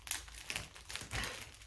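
A taped mystery bag of yarn is pried open, its plastic packaging crinkling and rustling in short close bursts, fairly quiet with no talking.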